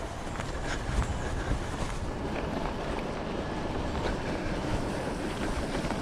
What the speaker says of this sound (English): It's very windy today as well.